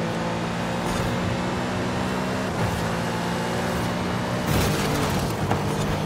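A car in the Forza Horizon 5 racing game drives itself through a race, giving a continuous dense engine drone with road and traffic rumble, steady and loud throughout.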